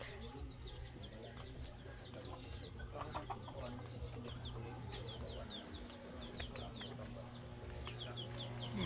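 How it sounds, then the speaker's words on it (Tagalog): Hen clucking on a rural farm beside planted crop rows after laying an egg, a repeated, moderately close clucking over steady outdoor background noise with birds chirping. "ang manok nangitlog"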